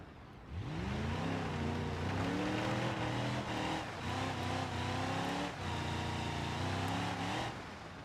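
ETK I5, a giant long truck in BeamNG.drive, doing a burnout: the engine revs up hard and climbs through rising gear-like tones, holding a loud, continuous roar with brief dips and re-revs, close and without talking.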